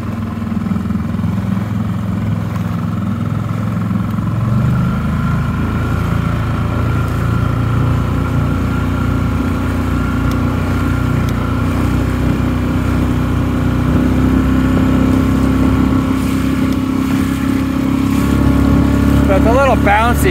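Loud, continuous motorboat engine drone with water noise from an inflatable boat, its pitch rising steadily as it picks up speed.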